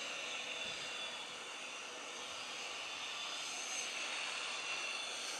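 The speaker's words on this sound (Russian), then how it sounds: "Солнечный денек и дичайший ветер." Strong wind blowing on a sunny November day along an industrial avenue in Kharkiv, a steady broadband rush that stays faint and constant throughout, with no talking.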